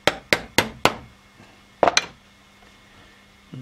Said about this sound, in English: I can then tap the pin through to the other side.